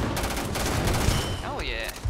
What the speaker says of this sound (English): Oh, the explosive rounds are